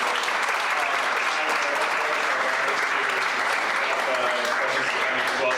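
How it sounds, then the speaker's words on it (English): Audience at a county commissioner candidate debate gives a sustained round of applause, a steady, full wash of clapping lasting several seconds with faint talk mixed underneath. "Could I ask for a round of applause for the candidates?"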